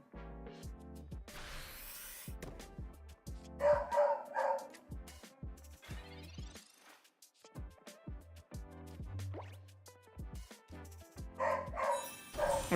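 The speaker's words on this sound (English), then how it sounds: "Is that your dog barking?" A dog barks in short repeated bursts heard in the background of a Pokemon Pocket card game session, the yaps and yips scattered across the stretch amid game music and sound effects, without any talk.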